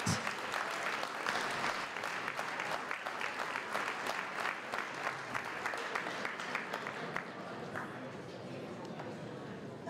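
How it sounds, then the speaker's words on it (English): Sustained audience applause fills a banquet hall at an academic recognition event for a Fine Arts Department, a dense steady wash of many hands clapping that fades slightly toward the end. "Have one more round of applause for our Fine Arts Department"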